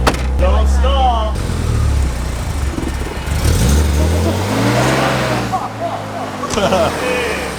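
A car engine in a busy workshop cranks, catches and revs up in rising and falling surges, loud and close, while people talk and shout over it.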